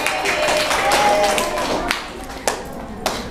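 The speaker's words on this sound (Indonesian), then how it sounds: "tepuk tangan dulu buat Ataya" Audience applause for Ataya in a classroom-style Islamic study session, a brief burst of clapping that fades out, with a few louder claps after it.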